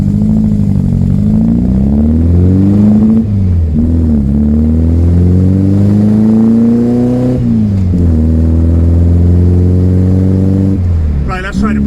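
A restored 1974 VW Beetle's air-cooled engine pulls through the gears on a road drive, loud and close, its droning pitch climbing in repeated rising sweeps with dips at each shift, with a voice occasionally heard over it.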